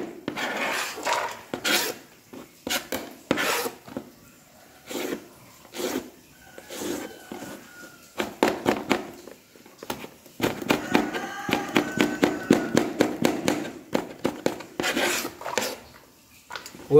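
A sharp knife slices raw mangoes into even pieces for a large batch of wedding-style pickle, producing quick, repeated cutting clicks and scrapes in an irregular, busy rhythm with no one talking.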